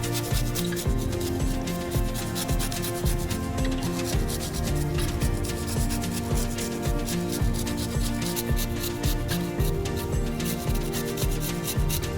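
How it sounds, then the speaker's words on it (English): Lemons grated on a zester, a close, steady rasping and rubbing that runs without pause for about twelve seconds, fairly loud and dense with no voices. "So start by getting your lemon zest going"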